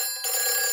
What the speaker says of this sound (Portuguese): Peppa, esse é o telefone do bombeiro.